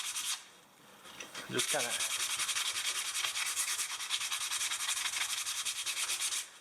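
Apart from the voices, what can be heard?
sanding wood with sandpaper by hand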